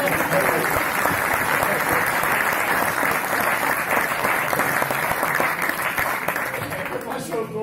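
An audience applauds at a tribute event in Rois, a dense, steady clapping that carries on loudly throughout, with voices talking underneath and a slight fade near the end.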